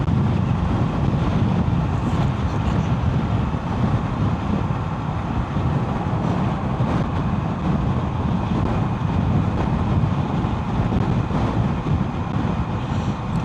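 A motorcycle cruising on a motorway under threatening rain, heavy wind buffeting the microphone over a steady engine and road roar, loud and unbroken throughout.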